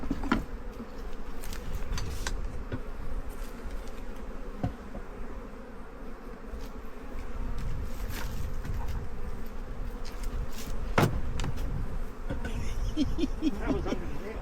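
Bees buzz steadily throughout, a dense insect drone at close range while someone is being stung, with scattered sharp clicks and no clear speech.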